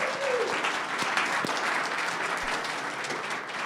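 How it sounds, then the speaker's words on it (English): An audience at a startup showcase event gives a round of applause, steady dense clapping from a crowd in a room, moderately loud and continuous, with a faint voice briefly audible near the start. "let's give them a round of applause"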